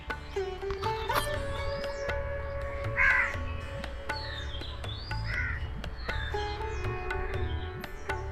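Birds call along a quiet, tree-shaded temple path in Ratnagiri, Konkan: repeated crow caws stand out among scattered chirps at moderate distance over a calm outdoor background, and no one speaks.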